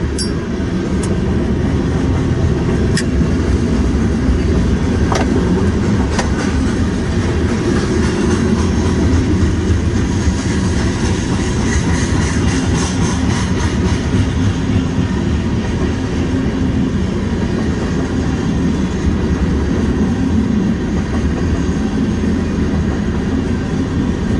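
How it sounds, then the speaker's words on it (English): A long Union Pacific freight train, manifest cars followed by double-stack container cars, rumbles past close by with continuous loud wheel roar and rhythmic clicking over rail joints, plus occasional sharp metallic clanks. "it looks like the first half of this is a manifest train, and then the end of this is a stack train"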